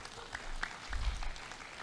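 Audience applause at an advocates' swearing-in and appointment ceremony for the Ikadin Jawa Tengah bar association, a short, fairly faint burst of clapping from a seated crowd lasting under two seconds.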